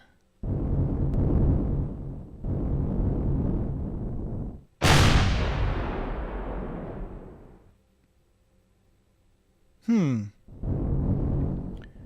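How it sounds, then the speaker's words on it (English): A rocket is fired at a mine in the space survival game Empyrion Galactic Survival, giving a loud sharp blast that decays into a long rumbling tail, with synthetic game sounds and bursts of noise around it. "Here, let's send a rocket over to it."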